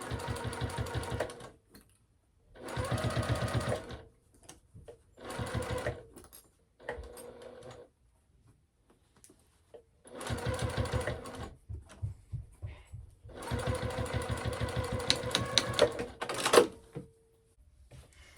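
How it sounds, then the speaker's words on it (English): A sewing machine stitches a 1/16 inch seam along the edge of a fabric clutch in several close, loud bursts of rapid needle chatter separated by short pauses, with no one talking. "And then we'll just sew that up."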